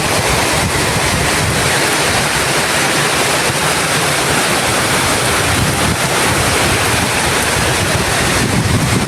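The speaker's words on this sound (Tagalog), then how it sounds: "may hangin pa ang kasama" Strong storm wind roars continuously through mango trees, bamboo and garden plants, a loud, unbroken rushing gust with heavy noise against the microphone.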